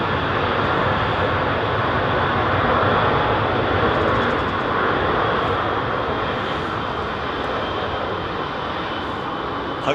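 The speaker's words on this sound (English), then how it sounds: "This 777 off to Miami." A Boeing 777 airliner taking off at London Heathrow, a steady, loud, broadband jet engine roar holding for the whole stretch without a break.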